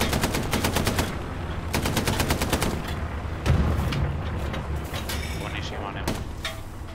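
Loud automatic gunfire in the World War II shooter Hell Let Loose, long rapid machine-gun bursts rattling close by, broken by short pauses and a heavy thump.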